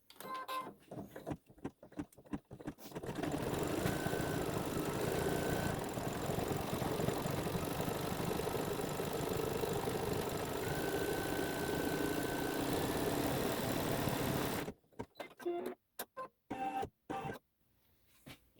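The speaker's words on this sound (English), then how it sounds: "It's going to stitch the needle now." An embroidery sewing machine stitches a quilt block, giving a steady, dense mechanical whir that runs for about twelve seconds, bracketed by short clicking bursts and pauses before and after.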